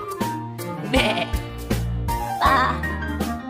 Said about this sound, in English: The sheep on the farm say ba,